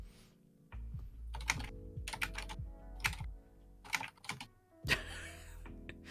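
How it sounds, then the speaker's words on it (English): Fast, forceful typing on a computer keyboard comes in several hard bursts of clacking keys, close and loud, over steady background music. "Angry typing."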